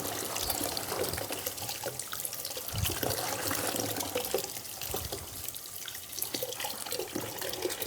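Water pours steadily out of a bucket through a sieve for an archaeological flotation sample, a close, continuous splashing rush without pause.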